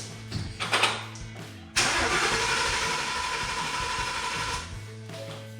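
A Ford Mustang GT engine cranks with a few rhythmic starter pulses, then catches and fires into a loud, steady idle that runs several seconds before settling back toward a lower idle.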